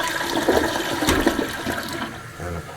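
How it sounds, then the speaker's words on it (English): A full toilet flush roars and swirls in the bowl at close range, a steady rush of water that gradually eases toward the end. "a full flush in the bowl"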